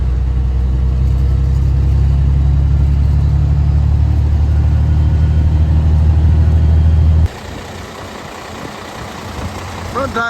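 Farm feed truck engine rumbling loudly at a heavy low idle as it pulls out of a driveway, steady for about seven seconds before abruptly dropping away to quieter outdoor noise.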